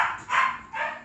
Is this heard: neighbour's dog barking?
yes